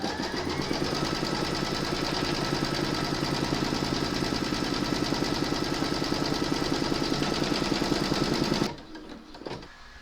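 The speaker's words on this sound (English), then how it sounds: "load your hoop into your machine and stitch round number 1" Computerized embroidery machine stitching a placement outline on fabric in a hoop for a quilted liturgical bellpull runner, a loud, steady, fast mechanical whirring and needle rattle running continuously before stopping abruptly near the end.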